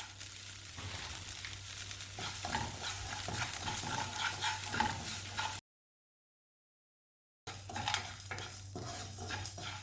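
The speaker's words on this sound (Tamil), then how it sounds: "இப்போ இந்த கடாயில் உப்பு சேர்த்து வறுத்து எடுத்துக்கலாம்" Salt being dry-roasted and stirred in a kadai, making a steady scraping, rustling sizzle up close, with the sound cutting to brief silence partway through before resuming.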